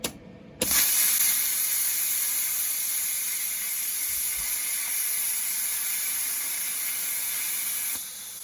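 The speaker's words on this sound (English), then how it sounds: "we're going to cut these in sections with a plasma cutter" Plasma cutter slicing steel sections for a trailer repair, a loud steady hiss that starts abruptly and runs continuously for several seconds before cutting off near the end.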